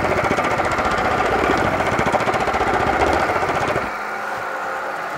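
Rapid, dense metallic hammering on a sheet-metal fender being shaped, with the blows coming as a steady rattling stream for several seconds before stopping abruptly into quieter room noise.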